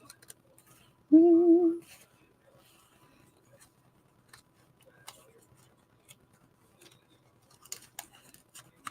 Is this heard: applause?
no